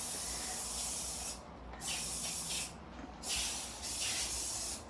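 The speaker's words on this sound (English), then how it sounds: "I'm just going to spray it," Disinfectant is sprayed over cardboard mail boxes in several long, loud hissing bursts close by, separated by brief pauses, with no talking.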